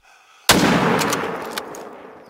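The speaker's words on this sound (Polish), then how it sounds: "strzelę jeszcze do niego" A single loud hunting rifle shot in theHunter: Call of the Wild, set in a Spanish reserve, cracks out after quiet and rings off in a long, fading tail.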